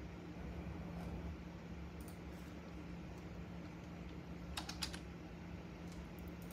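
Typing on a computer keyboard while ordering poly or plastic packaging bags online, a soft steady clatter of keys with a brief faster burst near the middle, heard over a constant low hum of room noise.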